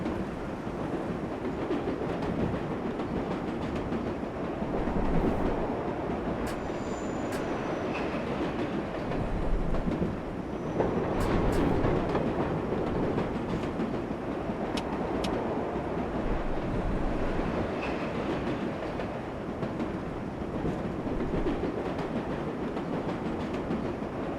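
A New York subway train in World of Subways 4 runs between stations, a steady rumbling roll with faint rail clatter and occasional squeals, continuous and close throughout with no talking.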